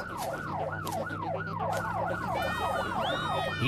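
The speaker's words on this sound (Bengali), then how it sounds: "এটাকে বলে চুরির সাইরেন।" A loud, continuous wailing alarm siren sweeps up and down in rapid repeating cycles, with a second higher siren tone joining near the end.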